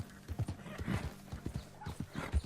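Horse hooves clip-clop in a steady galloping rhythm in Red Dead Redemption 2, thudding loud and close, with a brief snort or whinny woven in.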